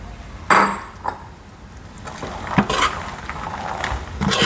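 Roasted makhana being stirred into caramel in a pan: a spatula scraping and clinking against metal, several distinct knocks and rustling stirs, close up with a faint sizzle beneath and no talking.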